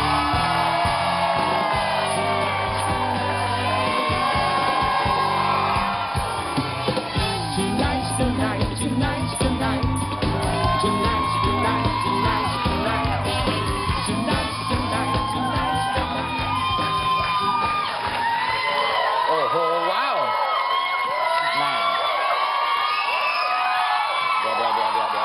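A studio audience at a live Thai television show screams and cheers loudly and continuously, with shrill whoops and shrieks filling the room and a host's amplified voice cutting through.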